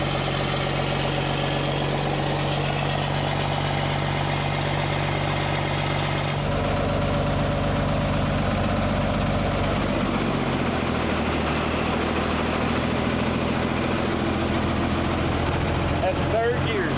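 A Mini Mack A40 project truck's engine cranks and catches, then runs at a steady rumbling idle with some vibration and knock. The sound is loud and close and continuous throughout.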